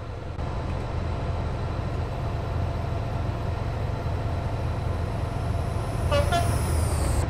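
A brief two-tone horn toot sounds from a Class 67 EWS diesel locomotive on the Oxford to London line in Train Simulator 2014, rising near the end over a steady low engine rumble.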